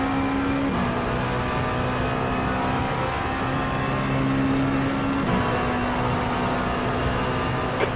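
A race car engine in a racing simulator game drones steadily and loudly throughout, holding near-constant pitch with a couple of brief gear-shift dips, no voices present.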